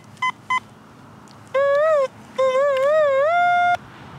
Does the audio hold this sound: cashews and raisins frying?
no